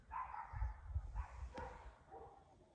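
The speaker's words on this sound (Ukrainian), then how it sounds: "Хто там гавкає?" A dog barks a few times outdoors in winter, with repeated mid-pitched barks over the first half and softer yelps afterward, fairly close and clear with no talking.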